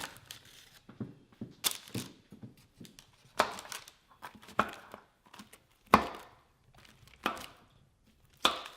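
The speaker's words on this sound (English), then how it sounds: "And then break it into pieces." Chocolate holiday bark gets chopped into pieces on a board with a knife. Several sharp, irregular knocks sound close by in an otherwise quiet kitchen.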